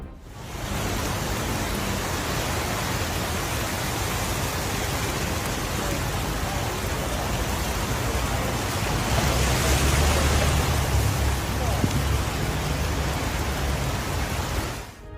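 Heavy typhoon rain falls in a dense, unbroken roar that holds steady for the whole stretch and swells slightly near the middle, with no voices.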